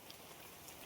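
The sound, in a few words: rain falling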